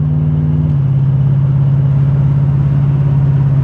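A G-body car with a 455 big block V8 drives along with a loud, close, steady engine drone and low rumble, the pitch settling lower after a brief shift early on.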